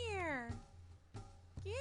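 A cat in the video game Jak and Daxter gives a clear, close meow that slides downward in pitch, followed by a shorter second call and the start of a third.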